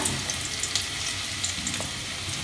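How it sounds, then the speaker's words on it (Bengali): Garlic paste goes into hot oil in a pan after fried chicken, bringing a steady close sizzle with scattered crackles and pops. "এবার দেখো গরম তেলের মধ্যে মা এটা দিচ্ছে রসুন বাটা,"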